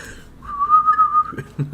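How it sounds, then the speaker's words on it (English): A person whistles one steady, fairly loud held note for about a second, followed by a few short rustling knocks. "Whistle"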